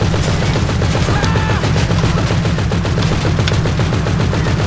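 Rapid, continuous gunfire rattles loudly without pause in GTA V, dense automatic bursts layered over a low rumble, like a chaotic firefight.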